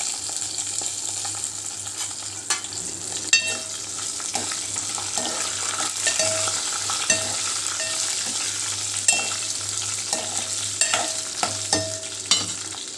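Dried red chillies and green chillies fry in hot oil with roasting cumin and coriander seeds for a catering-style mint chutney, making a continuous sizzle and hiss with occasional scraping stirs and light clinks throughout.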